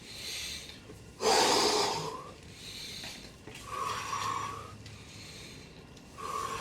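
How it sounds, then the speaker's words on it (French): Forceful breaths during a warm-up exercise in a workout session, a sharp loud exhale followed by slower, softer inhales and exhales, close and alone with no talk. "J'expire, je viens chercher le sol. J'inspire, je me grandis."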